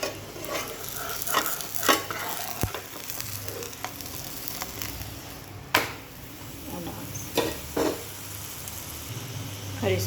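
Aloo paratha cooking in ghee on a pan, a steady close sizzle and crackle broken by occasional scrapes and clinks of a utensil against the pan.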